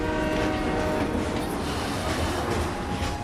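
A train rolls past in the video game Final Fantasy VII Remake, a loud rumbling pass with rhythmic clacking and a horn-like tone, close and continuous without speech.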